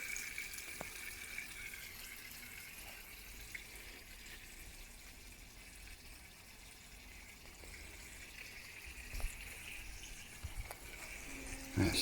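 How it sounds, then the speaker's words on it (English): Water from a hose pipe pours steadily into a new koi pond, a faint, continuous splashing wash heard from a distance, with a few small knocks along the way. "Gotta love the sound of a new pond filling up, haven't you?"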